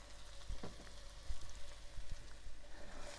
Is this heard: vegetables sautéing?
yes